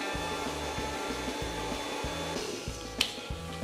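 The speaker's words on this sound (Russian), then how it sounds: "И растирать, и в то же время топить феном одновременно." A hair dryer blows steadily close by, melting heavy brilliantine into hair, giving a constant whooshing hum with a faint pulsing motor drone underneath and one brief click near the end.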